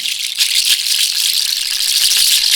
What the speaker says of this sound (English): the last instrument that I recorded was the seeds. So this is what they sound like playing.